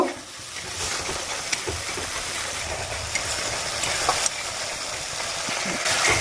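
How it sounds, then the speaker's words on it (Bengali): Masala spice paste for a taro and fish curry sizzles steadily in a pan, a dense, close frying hiss with occasional stirring scrapes and no talking. "ভালো করে মশলাটাকে আমি কষিয়ে নেব"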